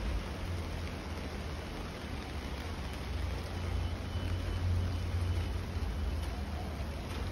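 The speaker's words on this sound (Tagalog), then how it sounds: "maulan pa din" Steady rain falls outdoors in Hong Kong after Super Typhoon Ragasa, a dense even hiss with a low rumble beneath, heard alone at a moderate distance.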